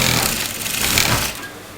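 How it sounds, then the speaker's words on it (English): A sewing machine runs a top stitch over gathered frock fabric, a brief, steady, buzzing whir close by that slows toward the end. "I'm going to put a top stitch"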